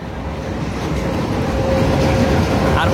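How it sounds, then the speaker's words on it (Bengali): The Narayanganj Commuter 7, running on a new rake from Narayanganj toward Dhaka, makes a loud, steady rumble with rolling rail clatter that builds slightly, heard close from on board. "আর প্রথমবারের মতো নতুন রেকে নারায়ণগঞ্জ থেকে ঢাকার উদ্দেশ্যে ছেড়ে যাচ্ছে নারায়ণগঞ্জ কমিউটার 7।"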